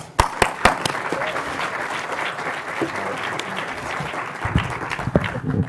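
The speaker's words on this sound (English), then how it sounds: "Let's welcome him with a big round of applause" At a food justice summit, a conference audience breaks into a round of applause, opening with a few sharp, close claps before settling into steady, full clapping.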